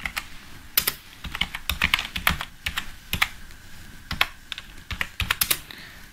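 Typing on a computer keyboard, a quick irregular run of close, crisp key clicks and taps with short pauses, steady and alone without talk.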